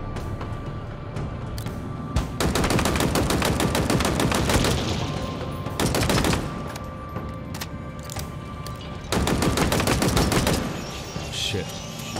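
Heavy-recoil weapon firing in Halo Infinite: long sustained bursts of rapid automatic gunfire, loud and close, broken by short gaps, with game ambience between volleys.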